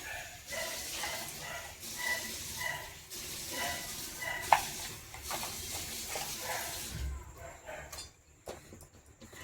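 Pointed gourd coated in turmeric sizzles steadily in mustard oil in a wok, a continuous close frying hiss with stirring scrapes, quieting near the end.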